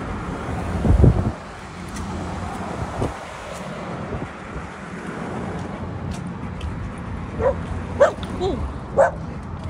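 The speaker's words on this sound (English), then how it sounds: "There's two big white dogs." Two big dogs in a white truck bark near a walking path by the Missouri River, a few loud barks and yips early and later, with passing traffic and wind, and people talking.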